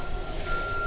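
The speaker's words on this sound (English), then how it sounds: "I apologize for that beeping, that car in reverse." Reversing beeps from a car backing up near an auto body shop, a steady high electronic tone sounding over low background rumble, moderately loud and unaccompanied by talk.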